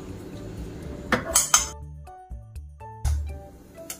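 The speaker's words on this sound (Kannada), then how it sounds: "ಸೊ ಈಗ ಒಂದು ಬಾಣಲಿ ತಗೊಂಡಿದ್ದೀನಿ" A metal frying pan (baanali) is set down on a kitchen stove for making peanut chikki, giving a few close metallic clanks and clinks in quick succession followed by another knock.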